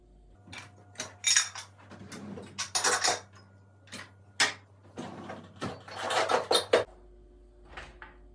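Dishes and cutlery are unloaded from a dish rack at home, with sharp metallic clinks and clattering plates in quick irregular bursts, close by, with brief pauses and no speech.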